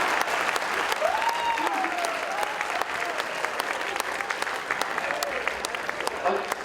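Audience at a poetry gathering applauding loudly and continuously, dense clapping throughout with a voice talking over it.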